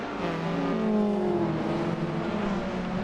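Racing car engines in a video game whine and rev at high pitch, 1990s BTCC touring cars at Brands Hatch droning past at a steady, loud level.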